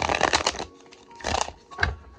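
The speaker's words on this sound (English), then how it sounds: "We gonna shuffle that one up." An oracle card deck being shuffled by hand, two quick bursts of riffling cards with a softer flick at the end, close and crisp with no talking.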